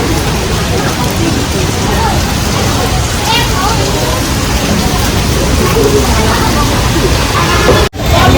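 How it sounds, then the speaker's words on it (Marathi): Heavy rain falling somewhere in Vietnam: a loud, dense, continuous wash of rainfall that stays unbroken for the whole stretch, with traffic faintly mixed in and a brief dropout near the end. "इथे खूप पाऊस सुरू झाला"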